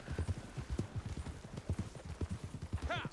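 Steady, rhythmic clip-clop of horse hooves in the video game Red Dead Online, with a brief whinny near the end.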